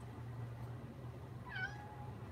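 A Maine Coon cat gives a single short meow, moderately close and clear above a steady low hum of room or RV background noise.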